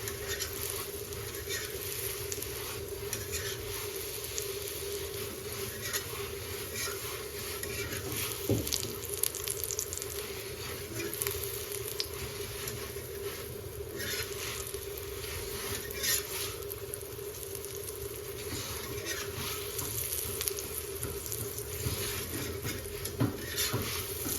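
Chicken paratha frying in oil on a pan over a high flame, a steady dense crackling patter with occasional louder pops and scrapes, continuous throughout alongside a low constant hum.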